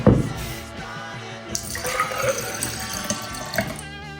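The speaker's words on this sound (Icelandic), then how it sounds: "Og núna ætla ég að hella í þetta glas." Liquid poured into a glass, a steady splashing trickle that rises in pitch as it fills, close and continuous for several seconds with a faint voice in the background.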